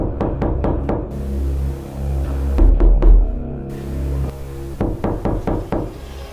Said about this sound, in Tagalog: Pagkatapos ay makakarinig sila ng katok ng 3 beses.